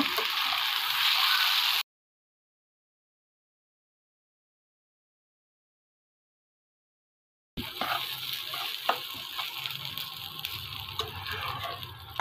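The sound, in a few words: stirring rice, dal and meat together in a frying pan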